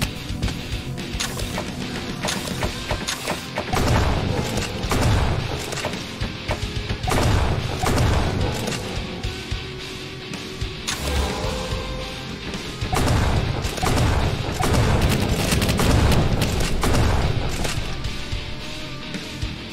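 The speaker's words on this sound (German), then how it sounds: "Ja, die Fässer können wir auch zum Explodieren bringen hier." Barrels exploding in the video game Scar 2020, loud repeated crashing booms and thuds over a dense, continuous din of gunfire and combat noise.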